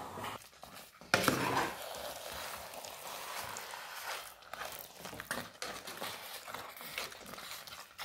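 A spoon stirs jaggery into pongal in a cooking pot, giving soft scraping and clinking against the metal, with a sharper knock early on followed by irregular stirring noises.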